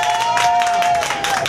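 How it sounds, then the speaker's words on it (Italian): Diners at a restaurant applaud a bride-to-be from Bergamo, continuous loud clapping with a sustained tone running beneath it and no clear talk. "Applauso!"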